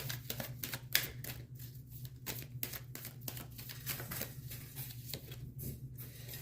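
Tarot cards drawn from a deck make a series of soft, quick papery snaps and slides, some crisp flicks scattered irregularly over a steady low hum, close and fairly quiet.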